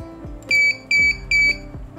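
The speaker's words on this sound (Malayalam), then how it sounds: "3 പ്രാവശ്യം ബീപ്പ് കേൾക്കണമെങ്കിൽ അതിൻ്റെ അർത്ഥം ഇത് ഇതിൻ്റെ ഹോം പോസ്റ്റിനായിട്ട് സെറ്റ് ചെയ്തിട്ടുണ്ടെന്നാണ്" An Arduino motion-sensor alarm built with an ADXL335 accelerometer sounds a buzzer three times: short, loud, evenly spaced high beeps over faint background clicks.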